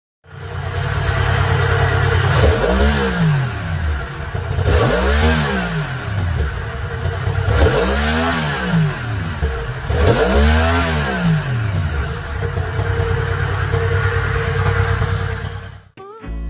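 Yamaha MT-10 motorcycle with Acoustic Amplifier Grilles on the tank sides carrying induction sound: four loud, close throttle blips climb and fall in a steady rhythm over a rumbling idle, with no voices.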